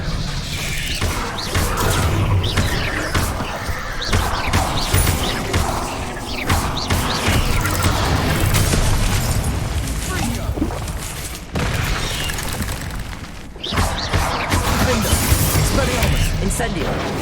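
Confringo and Incendio spell blasts in Hogwarts Legacy combat: repeated booms and crackling bursts in a dense, continuous, loud battle mix lasting throughout, with brief dips.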